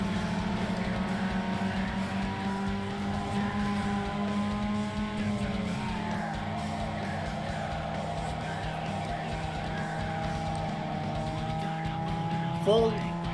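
Race cars in Need for Speed Underground 2 roar with sustained engine drones that shift pitch as they accelerate and change gear, steady and moderately loud throughout, with a person talking intermittently over them.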